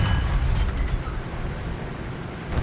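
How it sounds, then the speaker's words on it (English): Heavy explosions rumble through a War Thunder simulator tank battle, a loud low boom at the start settling into a sustained roaring rumble with no talking. "And big explosions."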